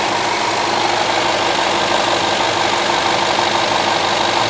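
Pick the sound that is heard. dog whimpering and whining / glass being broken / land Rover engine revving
land Rover engine revving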